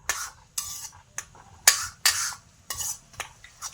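Undhiyu mixture stirred slowly in a pan, a series of distinct scraping strokes with a spoon clinking against the metal, roughly every half second, close and loud with quiet gaps between.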